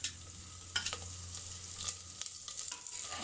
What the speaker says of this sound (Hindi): 10 मिनट तक लहसुन और अदरक भी साथ फ्राई करेंगे, प्याज भी हैं।